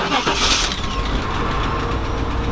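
Buick Roadmaster engine cranking and catching, then settling into a loud, close, rough idle with a steady rumble.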